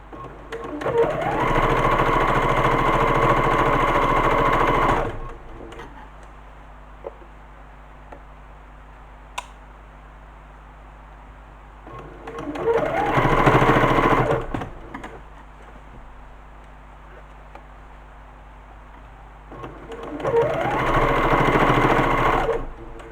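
Sewing machine stitching a fabric tote bag strap, running in three steady loud bursts of rapid mechanical whirring with quiet gaps between, close up and without talk.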